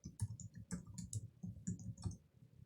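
Quick bursts of close, crisp key clicks on a computer keyboard as a command is typed, irregular taps in small clusters with brief pauses, heard alone and fairly quiet.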